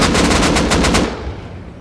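Automatic gunfire in the survival video game Rust: a rapid, loud burst of shots lasting about a second, then a fading tail, with no speech.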